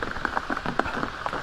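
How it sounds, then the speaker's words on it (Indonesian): Rain falls at night in a forest, a soft, close patter of irregular drops tapping on surfaces, faint and steady with no voices. "Jadi pada malam ini saya terjebak hujan ya teman-teman."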